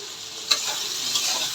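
About four cut tomatoes drop into a hot frying pan for a quail egg curry, sending up a brief soft thud and then a close, steady hissing sizzle.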